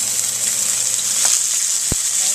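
Salmon sizzling steadily in a hot frying pan, a continuous close crackle with a soft tap partway through.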